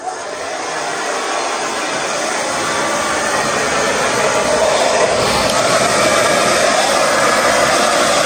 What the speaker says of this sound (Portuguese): Vamos, só vou secar o cabelo.